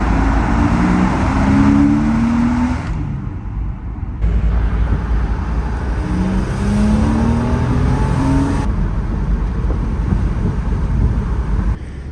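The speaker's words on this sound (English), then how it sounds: "Always nice to be still manually rev match downshifting a car on my own." A 2001 Porsche Boxster S engine revs through manual rev-matched downshifts, loud in-cabin blips that rise and fall in pitch several times over a constant road roar with no talking.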